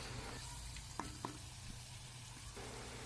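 Chicken karahi with karahi gosht masala frying in a pan, a soft steady sizzle with a few light scraping knocks as the spoon stirs, heard alone.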